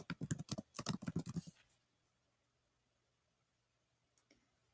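Rapid bursts of keystrokes on a computer keyboard while typing a short task entry, close and crisp for about a second and a half, then silence broken by one faint later click.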